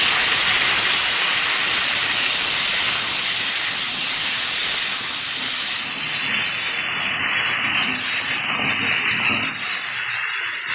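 Chopped vegetables tossed into a hot pan of oil for a pumpkin and potato curry hiss and sizzle loudly and steadily, settling into a softer frying sizzle partway through, with no talking.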